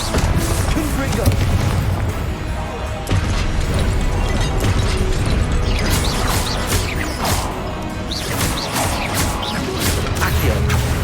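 Confringo spell blasts in Hogwarts Legacy layered with other combat spells: a loud, dense clamour of booms, crashes and whooshes with sharp impacts scattered through it, and a voice talking over the fight.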